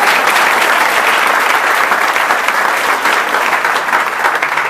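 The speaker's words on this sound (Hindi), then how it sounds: "इनके लिए भी ताली बजा दो।" Loud, sustained audience applause filling the whole stretch, a dense steady clapping from a large crowd at a talk or seminar, with no voices rising above it.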